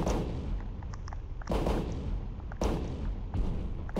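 Tank cannon shots in the Super Battletank: War in the Gulf video game, two loud booming blasts about a second apart over a continuous rumbling engine and gunfire backdrop.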